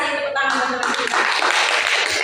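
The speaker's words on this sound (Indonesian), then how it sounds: "terima kasih tepuk tangan teman-teman kita" Students in a classroom clapping together during a lesson, a short burst of group applause that starts over the tail of a voice and continues briefly, fairly loud and close.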